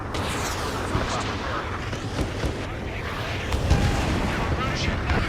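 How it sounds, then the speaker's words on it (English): Battlefield gunfire and heavy artillery in the Ace Combat 7 video game form a continuous roaring barrage of booms and crackling shots, with voices talking over the din. "Jesus, they're firing at each other."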